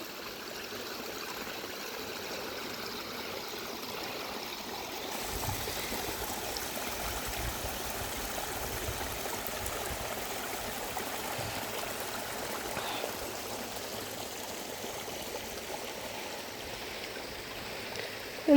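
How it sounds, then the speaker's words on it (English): A park stream at High Cliff State Park trickles and flows under a trail path, a steady soft wash of running water heard from nearby with no voices. "And then that water flows under the trail path and out to the other side."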